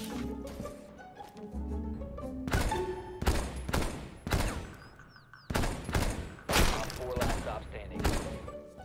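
Gunfire in a ranked match of the video game Rainbow Six Siege, a string of loud, sharp shots and bursts separated by short gaps, with a voice talking in between.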